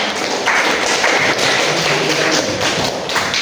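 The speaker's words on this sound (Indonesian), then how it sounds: "Beri aplaus kepada kelompok 4." A class applauding a student group after its presentation, a dense patter of clapping hands filling the room steadily for a few seconds.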